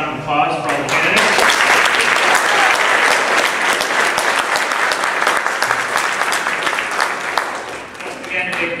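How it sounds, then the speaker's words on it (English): Audience at a 2012 Dunsmuir city council candidates forum applauds in a sustained, loud round of clapping, with a voice heard briefly at the start and chatter as it tapers near the end. "Let's get one more last round of applause for all the candidates."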